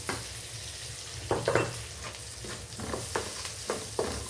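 Garlic cloves and green chillies sautéing in a pan with onion for a South Indian radish curry, a steady low sizzle with a few stirring scrapes in short bursts, close and alone.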